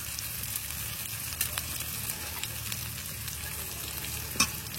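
Ground cumin and dried chilli paste frying in a pan after ginger and garlic, a steady oily sizzle with a few sharp scrapes and clinks of stirring.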